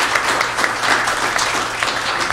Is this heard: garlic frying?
no